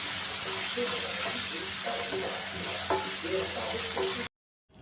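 Tomatoes with ginger-garlic paste fry in a pan with a steady, loud sizzle and occasional scraping stirs, running continuously before stopping abruptly into silence near the end.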